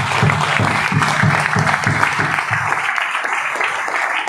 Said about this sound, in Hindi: सर के लिए एक बार शानदार ताली होनी चाहिए